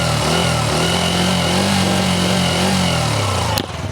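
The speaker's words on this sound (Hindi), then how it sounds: "एक बार साउंड सुनवा देते हैं दोनों ही गाड़ियों का। पहले CNG बाइक को सुन लेते" A Bajaj Freedom 125 CNG motorcycle engine runs at a steady idle with a low, even thrum, close and continuous for nearly four seconds, followed by a brief sharp click near the end.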